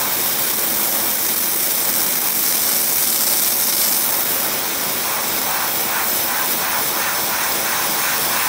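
An air compressor drives a homemade paint media blaster, a loud, steady broadband hiss and rush that continues unbroken throughout.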